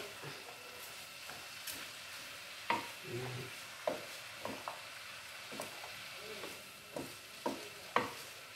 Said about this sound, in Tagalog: Tingnan na rin yung ating gulay. Haluin ng konti.